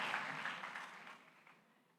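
An audience at a university public lecture claps for the Vice Chancellor, a dense burst of applause that is loudest at the start and gradually thins and fades over about two seconds.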